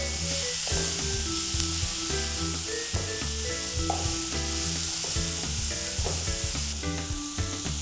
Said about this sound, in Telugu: సో గోల్డెన్ బ్రౌన్ కలర్ వచ్చేలాగా మనం వేయించుకుంటున్నాం